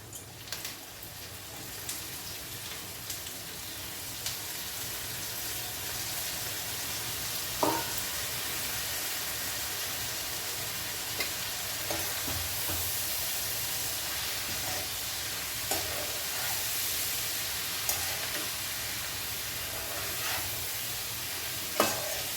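Amaranth leaves frying with onions in a pan for a tangy amaranth and raw mango curry give a steady, moderately loud sizzle with occasional stirring scrapes, no talking.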